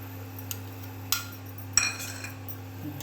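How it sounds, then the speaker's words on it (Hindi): A metal spoon scrapes and scoops egg masala curry out of a pan, giving a few sharp, separate clinks against the metal over a steady low background hum. "अब इसको देखिए इस तरह से चम्मच से घुमा कर निकाल रहे हैं।"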